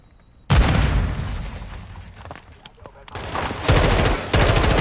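In Call of Duty Warzone DMZ, a grenade explosion booms loudly, followed by dense bursts of rapid gunfire and further blasts that keep the action loud and close, with a voice briefly heard amid the shooting.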